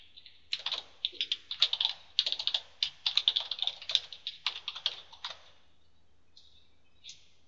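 A computer keyboard is typed on in quick uneven bursts of sharp clicks, close and clear against a quiet background, slowing to a few isolated taps at the end.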